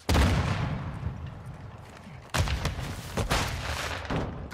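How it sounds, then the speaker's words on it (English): Grenade blast and rapid gunfire in Call of Duty: Modern Warfare II, a heavy boom at the start followed by a second loud burst midway and sustained crackling shots, close and loud. "Grenade out!"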